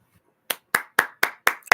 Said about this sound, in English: Let's clap for ourselves in 2024